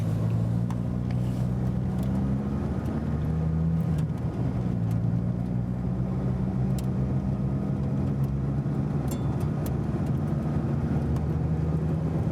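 A Ferrari 430 Scuderia races a Dodge Viper GTS, their engines a loud, sustained low drone with rising and falling tones as gears shift, heard close and continuous without talk.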